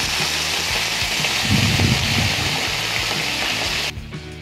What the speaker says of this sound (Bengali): এরপর আমরা এর মধ্যে দেবো পরিমাণ মতো জল